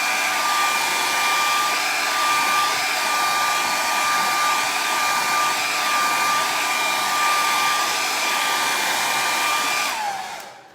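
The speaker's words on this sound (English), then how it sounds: "Then I'm gonna use a blow dryer to make sure this all dries." A hair dryer runs steadily on wet paint in an art session, a loud, close, continuous whooshing roar with a faint whine that lasts about ten seconds before switching off at the end.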